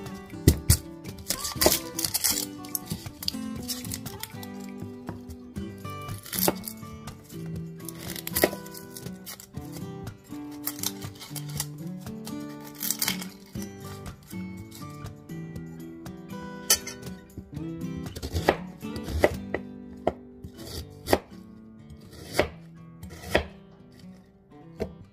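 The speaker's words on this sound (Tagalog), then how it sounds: "maghiwa din tayo ng sibuyas." A knife chops onion on a cutting board in a home kitchen, a steady run of sharp, close, rhythmic chops with brief pauses, loud and alone with no talking.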